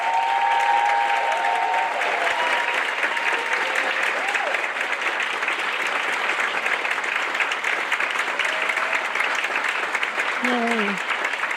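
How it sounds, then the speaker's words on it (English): Sustained applause from the audience at a white coat ceremony for the Doctor of Physical Therapy class of 2027, dense and steady throughout with faint voices and cheers mixed in. "let's give a round of applause for all of the members of the class of 2027"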